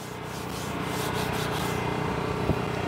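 Hands scrubbing hammered-finish seats, a steady continuous rubbing and brushing texture held at close range, even in level throughout with a small knock near the end and no talking.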